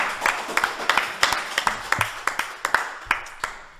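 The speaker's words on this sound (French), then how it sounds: "On l'applaudira, s'il vous plaît" Sharp irregular claps from a small audience at a French teen club gathering, a scattered run of distinct hand claps fairly close, with a faint voice briefly underneath.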